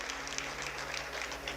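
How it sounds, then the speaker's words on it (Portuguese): At a Brazilian church vigil service, the congregation applauds briefly in honour of Jesus, a fairly soft and steady patter of many hands with no talking over it. "Você pode aplaudir a Jesus pela vida de quem está ao vivo com a gente?"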